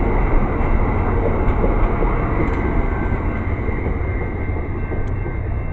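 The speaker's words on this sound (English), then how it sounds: "there goes the train pulling out of here" An Amtrak train pulling out of a station gives a loud, steady rumble of rolling wheels and engine noise, sustained and close, with no voices.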